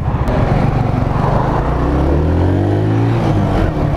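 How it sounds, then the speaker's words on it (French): Mash Seventy Five motorcycle riding along with a steady, loud engine drone that rises slightly in pitch, continuous throughout with no talking. "Très bonne moto pour apprendre aussi, hein."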